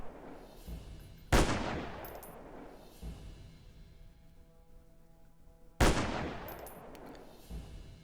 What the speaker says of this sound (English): And shoot 3 zombies.